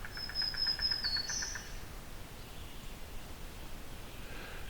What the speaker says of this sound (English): That's a yellow-billed cuckoo.